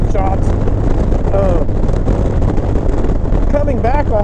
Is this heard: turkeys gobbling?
no